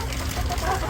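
A white-speckled rooster and hens clucking in a short, close, continuous farmyard murmur with soft overlapping calls.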